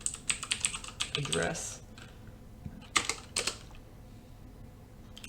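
Rapid clicking of computer keyboard keys as network configuration commands for a Cisco Packet Tracer activity are typed, in quick bursts with short pauses, under and between a man's spoken explanation.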